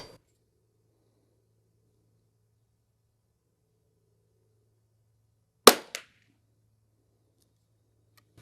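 A single sharp rifle shot from a CZ firing Eley Club Xtra ammunition cracks out after a long near-silent pause, followed by a brief echo, at an outdoor range.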